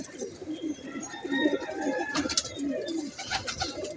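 Teddy pigeons coo softly and steadily close by, low throaty murmurs overlapping one another, with a few faint higher chirps in the background.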